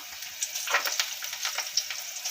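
Lentil balls for a lentil-ball curry fry in hot oil, giving a steady close crackle with brief brighter spatters scattered across a couple of seconds, with no voices.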